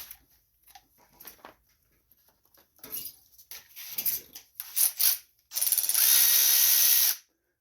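A hand ratchet removes a 7/16 bolt on a Gilson rear-tine garden tiller, clicking in short quiet bursts that build into louder, faster ratcheting and end in a long continuous buzzing run of pawl clicks, close up with no talk.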